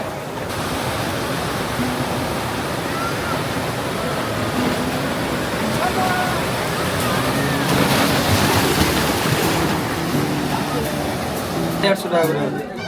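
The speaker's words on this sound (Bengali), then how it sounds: "এই দীঘা মোহনা জলোচ্ছ্বাসটা লক্ষ্য করুন আপনারা দেখুন জলোচ্ছ্বাস" Sea waves surging at the Digha estuary on the Bengal coast, a continuous loud roar of surf and rushing water that swells slightly midway, heard close with no voices.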